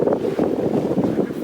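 A breeze blows over a sailboat cruising off Pacific Mexico, making a steady, rough rush of wind against the microphone that stays fairly loud and close with no voices.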